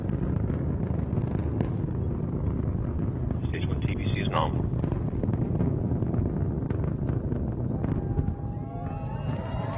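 Antares rocket engines roar in a steady, dense broadband rumble during ascent at full thrust, loud and continuous throughout, with a brief radio voice briefly heard over the roar.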